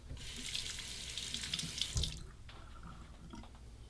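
Tap water running while a Gillette Fatboy razor from 1959 is rinsed, a steady close splash and hiss that eases off after a couple of seconds into softer trickling, without talk.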